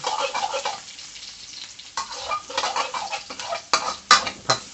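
Garlic fries in a pan over low heat for marinated pork rad na, a soft hissing sizzle broken by stirring scrapes and sharper utensil clinks against the pan.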